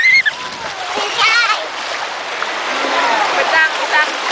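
A child splashes about while swimming in the sea, with water sloshing and splattering close by as children's voices talk and call out over it.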